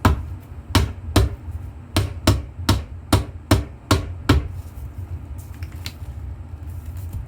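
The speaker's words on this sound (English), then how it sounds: "So here's my rubber mallet, and I just go around the edges." A rubber mallet taps around the edges of a paint can lid, about ten dull, evenly spaced knocks, close and moderately loud before the room falls quiet.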